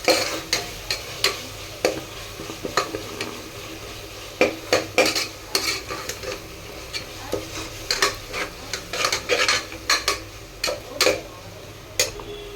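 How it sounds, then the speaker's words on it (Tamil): Ginger and garlic sauté in a pan over a low flame, a faint sizzle under repeated sharp clinks and scrapes of a spoon stirring against the metal at an uneven rhythm. "மிக்ஸ் பண்ணிவிட்டு ஒரு 2 நிமிஷம் இது ஸ்லோ ஃப்ளேம்லேயே இதையும் வதக்குதுங்க"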